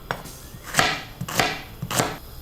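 A knife chops onion on a board for an asparagus soup, with about four crisp, evenly spaced strokes heard up close and alone.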